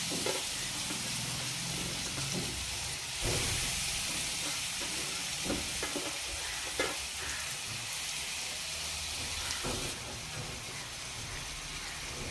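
Grated radish hits a tempering of green chilli, curry leaves, asafoetida and turmeric in oil, giving a steady hissing sizzle with intermittent stirring knocks and scrapes, fairly quiet and close.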